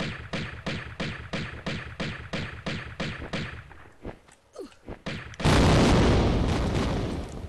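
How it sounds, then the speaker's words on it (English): A loud, sustained explosion roars in the Tomb Raider video game, preceded by a steady run of rhythmic thumping beats and a few irregular thuds before the blast erupts and slowly fades. "That explosion is the worst."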